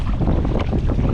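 Strong wind buffets the microphone during a coastal sea kayak paddle after sunset, a loud continuous low roar with gusty fluctuations and no voices.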